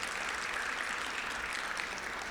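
A room of Rotary meeting attendees clapping for Nathan Thomas, a dense, even wash of applause that holds steady throughout.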